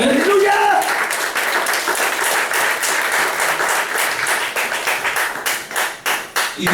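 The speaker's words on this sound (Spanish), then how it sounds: "Denle un aplauso a tu Señor." A church congregation claps and applauds loudly, the clapping thinning into scattered individual claps toward the end, with a voice briefly audible at the start.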